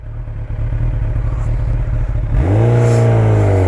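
A hypersport motorcycle engine idles with a low, lumpy rumble, then the throttle is blipped and the revs climb sharply into a loud, rising howl that holds close by.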